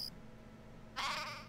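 A single short sheep bleat sounds from the video game Craft The World, a brief nasal call rising out of a quiet low background hum, with no voices.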